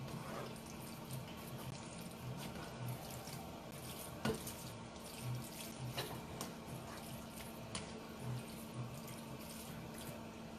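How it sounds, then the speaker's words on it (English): Tap water runs steadily into a jar while a spaghetti mac dish is being made, a continuous soft splashing stream with faint drips, close by and alone without any talk. "I'm going to add a little water in my jar first."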